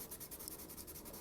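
Light, rhythmic strokes of a pastel pencil scratching across paper, a steady soft scratchy texture repeating in quick even passes, close and quiet with no talking.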